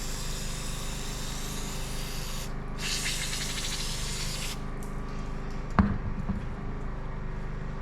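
Brake cleaner sprayed onto a wheel hub during a hub bearing check: a soft aerosol hiss lasting about two seconds over a low background hum, followed by a single knock.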